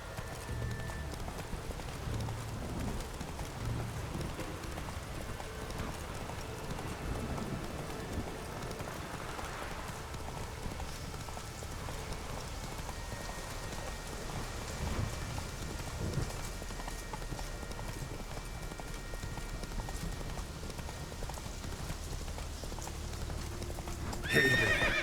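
Horse trotting through rain in The Witcher 3, a steady clip-clop of hooves over a constant hiss of rainfall, with an occasional whinny and no talking.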